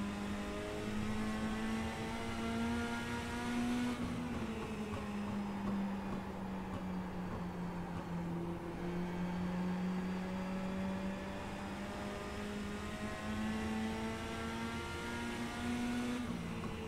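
Mini street stock race cars on a short oval track, a steady engine drone held at mid distance, rising and falling in pitch as the cars battle for position through the corners.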